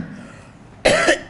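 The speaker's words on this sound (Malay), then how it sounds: "Batuk tu bukan batuk macam sesak nafas, tapi gatal tekak tu." A person coughs from an itchy throat: one loud, harsh burst after a quiet stretch, then the start of a second cough at the very end, close and with no talking.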